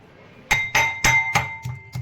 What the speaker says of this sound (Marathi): लसूण कुटून घेते खलबत्त्यामध्ये।